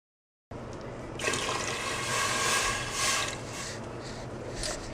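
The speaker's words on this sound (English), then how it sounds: "I fill up 2 Pomis with water, and I'm going to pour that in the soup" Water pours from a container into a pot of vegan alphabet minestrone soup, a steady splashing rush that starts abruptly after a brief silence and grows fuller, continuing close and moderately loud.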